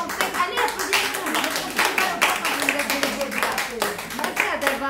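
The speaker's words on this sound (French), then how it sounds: "allez applaudissez-vous" An audience claps together at a talk, a dense rolling patter of hands that runs throughout, mixed with voices and cheering.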